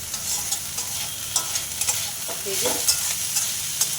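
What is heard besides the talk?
frying potatoes and drumstick flowers in a pan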